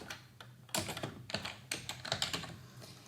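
A patient types a name and date on a computer keyboard at a healthcare portal form: a few scattered keystrokes, then a quicker run of clicky presses, close and clear with no voices.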